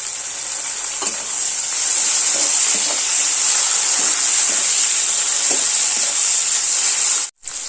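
Onions and tomatoes frying in oil in a pan for Tangra fish curry, a loud steady sizzle with occasional soft clicks of stirring, no voices.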